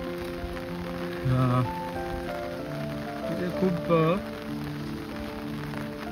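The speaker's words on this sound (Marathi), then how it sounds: "कोकणात खूप सारा मुसळधार पाऊस आहे" Heavy monsoon rain pours in Konkan, a constant dense hiss running under a voice that speaks in short bursts over it.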